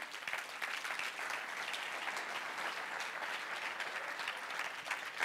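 An audience applauds steadily in praise of the Lord at a Christian gathering, a dense, even wash of clapping from many hands that carries on without a break.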